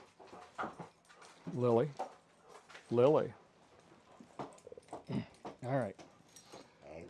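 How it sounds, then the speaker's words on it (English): A dog indoors gives several high, wavering whimpers and whines, close and fairly loud, with a person speaking briefly between them. "I'm getting visited by dogs."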